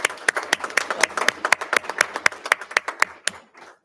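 A small group claps together at a school board meeting, a few seconds of sharp close hand claps in a fairly even rhythm that thins and fades out at the end.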